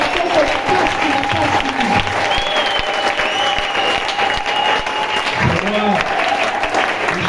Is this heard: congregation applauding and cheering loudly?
yes